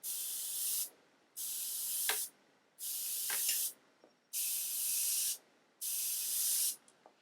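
A Harder and Steenbeck Infinity CR Plus airbrush sprays paint at low pressure, around 22 psi: five steady hissing bursts of about a second each, separated by short pauses, close and clear with faint clicks between them.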